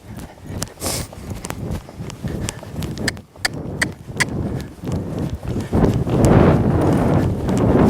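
A horse cantering on the left lead, hooves clip-clopping in a steady rhythmic beat close by, with wind and faint movement noise in the background.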